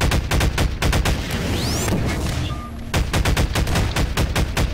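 A big gun fires in the Garry's Mod video game in rapid bursts of loud, close shots, with a brief pause in the middle filled by whooshing and ringing game effects before the firing resumes.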